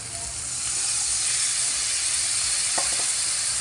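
Tamarind juice goes into a pan of small-fish curry, a broad steady sizzle and hiss that swells after the first half second and holds, loud and close, with a faint clink partway through.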